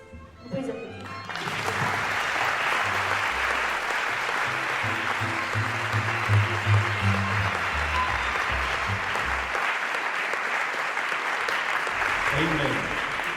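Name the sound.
audience applause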